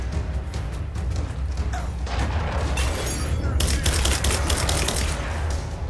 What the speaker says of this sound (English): Yeah, we got the assault rifle.